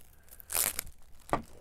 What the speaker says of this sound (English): You've got your trail camera packaged with in a plastic bag.